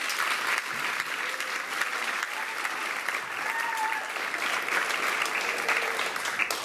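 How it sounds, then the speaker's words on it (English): Steady audience applause at a high school choir spring concert for the choir's piano player, a broad even wash of clapping that fills the room, with faint voices and a few whistles in the crowd. "could you guys give her another big round of applause?"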